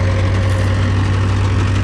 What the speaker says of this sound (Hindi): 1700 RPM पर चलेगा ट्रैक्टर